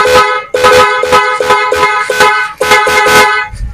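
A restored Honda TMX 125 Alpha motorcycle horn honks in a quick series of short, loud beeps with brief gaps between them, close up and alone.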